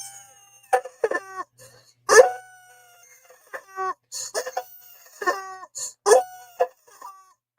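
Rooster crowing played as an alert sound for a golden chicken gift on a Sunday livestream, a series of clear, loud crows and clucking bursts repeating through the clip with short gaps between them.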